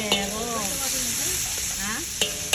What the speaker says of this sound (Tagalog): ginigisa ko na ang sibuyas, bawang at kamatis para sa ating pochero